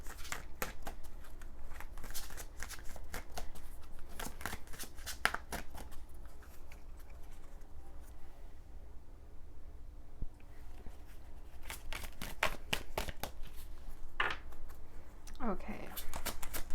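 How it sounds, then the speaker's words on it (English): Oracle cards are shuffled by hand in a quiet room: repeated soft, papery riffles and slaps come in irregular bursts, fairly close, with no talking. "I'm going to start by pulling an oracle card first just to see where your energy is at."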